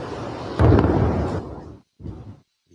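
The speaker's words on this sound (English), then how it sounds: "We're seeing things come down in explosions." Explosions in Tel Aviv carried on a live news feed: a loud, booming roar swells and fades over about a second, then a shorter second burst follows after a gap, heard alone without speech.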